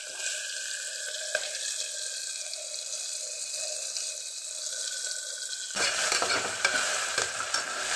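Onion, green chilli and ginger-garlic frying in a pan for tomato rice, giving a continuous close hissing sizzle that grows rougher and louder near the end as the mix is stirred.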